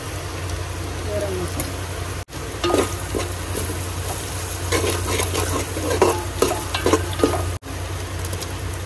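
Cumin, asafoetida, onion, chilli and turmeric fry in oil in a pan, a steady close sizzle broken by scraping stirs, while someone talks over it.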